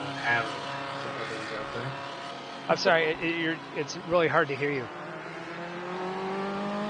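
Race car engine drone from a sim racing game played on an Xbox controller, a steady continuous hum running throughout beneath two people talking.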